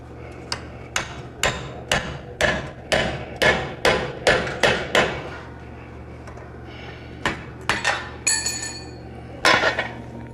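A blacksmith hammers a drift through hot steel, a rapid run of loud ringing metallic blows in an uneven rhythm that pauses and then resumes in a few scattered strikes, with no talk over it.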